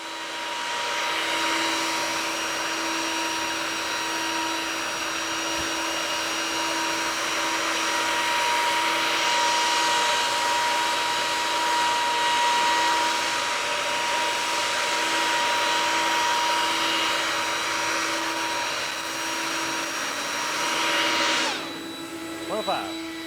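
Stihl leaf blowers roar during a power test, a loud, steady high-pitched whoosh of air and motor whine that holds for most of the stretch before dipping briefly near the end.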